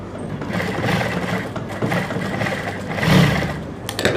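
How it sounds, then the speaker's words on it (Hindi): A sewing machine runs close by while it stitches elastic onto a trouser waistband, giving a continuous mechanical whirr with slight surges in speed and a few small clicks near the end. "ये जो सिलाई है बेल्ट की, इस इलास्टिक को हम यहाँ पे रखेंगे ऐसे और यहाँ पर एक सिलाई लगाएंगे ऐसे"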